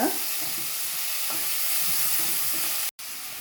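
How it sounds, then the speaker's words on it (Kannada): Chopped onion and tomato fry in hot oil for a Mangalore-style dish, giving a steady, close sizzle with soft stirring scrapes throughout and a brief dropout near the end. "ಒಂಚೂರು ಎಣ್ಣೆಡು ಕಾಯಿಡು ಲಾಯ್ಕ್ ಮಂತದ್ದು ನೀರುಳ್ಳಿ ಕಾಯ್ಬೇಕ"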